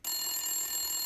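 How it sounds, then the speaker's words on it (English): A telephone rings, one short electronic trill that starts suddenly and rings steadily at moderate volume in a quiet room, with no talking. "Phone's ringing."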